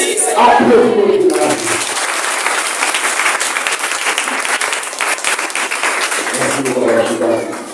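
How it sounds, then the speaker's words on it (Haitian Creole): A church congregation bursts into loud, sustained applause, dense clapping filling the space, with a speaking voice heard just before it and again as it fades. "Applaudissements."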